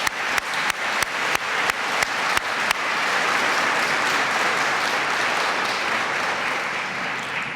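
A graduation ceremony audience bursts into applause, a few sharp separate claps at first, then thickening into a steady, loud roar of clapping from a large crowd that holds until the end.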